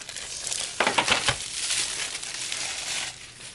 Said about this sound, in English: Let's take all this plastic off.